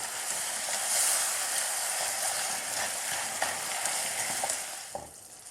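Sugar melts into a sticky caramel in a hot wok for stir-fried sweet pork, giving a loud, continuous sizzle with scraping stirring strokes that fade toward the end.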